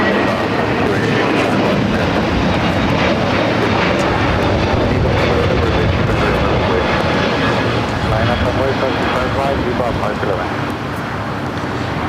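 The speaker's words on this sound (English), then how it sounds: "JetBlue Airways Flight 424 heading to JFK in the A321 Neo." JetBlue Airbus A321neo jet taking off at LAX, a loud, sustained engine roar that stays strong for the whole stretch and eases slightly at the end, with faint background noise and no clear talk.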